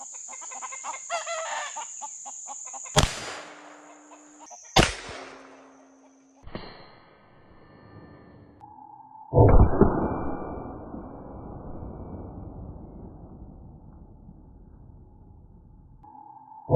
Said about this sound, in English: Okay, let's shoot the orange, see what happens.